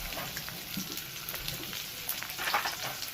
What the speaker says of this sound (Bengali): এবার এইটাকে এর মধ্যে ভেজে নেবো আলুর সাথে